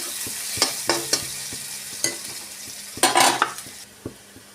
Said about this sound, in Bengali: এবার তেলের মধ্যে দিয়ে দেবো পেঁয়াজ ফোড়ন। পেঁয়াজটাকে দিয়ে কিছুক্ষণ নাড়িয়ে নেব